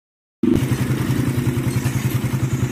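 A steel-bore motorcycle engine starts up abruptly after a moment of silence, then idles with a loud, close, rapid pulsing thump, steady and uneven in the exhaust beat with no talk over it.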